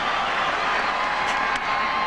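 A baseball stadium crowd on its feet during a major-league game between the Red Sox and White Sox, sending up a loud, steady roar of cheering that fills the whole moment without a break.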